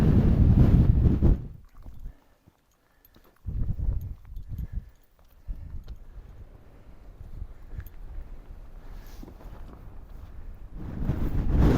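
Strong wind gusts over a Lake District mountain ridge near Raise and Helvellyn, roaring into the microphone in heavy low bursts at the start, middle and end, with quieter buffeting between.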